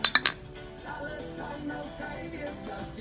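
Beer glasses clink together in a toast, three quick bright chinks in a row, followed by soft background murmur and faint clatter.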